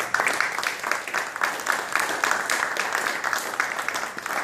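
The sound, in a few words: audience applause at an awards ceremony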